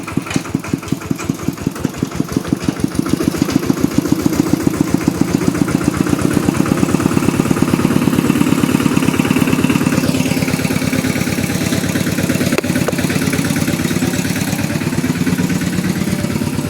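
A tractor engine chugs steadily with a fast, even thumping rhythm, running loud and close without pause, and no voices.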